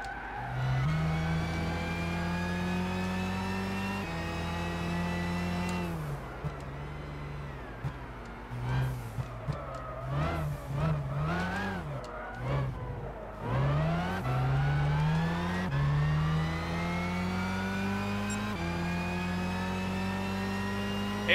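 A race car in Gran Turismo 6 at Spa-Francorchamps, its engine revving up through the gears with rising whines and sharp shift drops, then hitting a choppy, fluctuating stretch before climbing steadily again. The engine is loud and continuous, with no talking.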